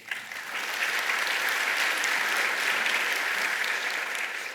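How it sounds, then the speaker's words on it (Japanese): Shareholders at an annual general meeting applaud together, a steady, dense wash of clapping from a large seated crowd that swells quickly and holds evenly throughout, with no talking over it. "ご賛成の株主様は拍手をお願いいたします。"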